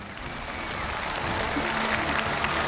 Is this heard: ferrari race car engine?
no